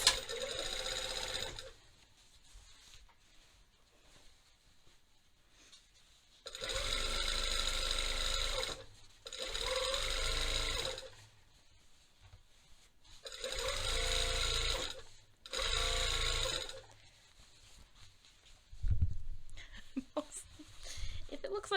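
A home sewing machine stitches a half-inch seam on jeans in bursts of rapid whirring, several runs separated by quiet pauses, close and clear with faint speech between.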